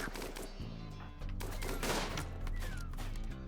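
Bursts of automatic machine pistol fire in a Rimworld battle, rapid cracking shots layered over a steady game music bed, fairly loud and continuous with no speech.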